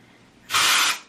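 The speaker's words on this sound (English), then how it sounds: "I lift little sections and just spray right under that first section" Hairspray from an aerosol can is sprayed onto lifted sections of hair for a curly style, giving one loud, close hiss about half a second long with no talking.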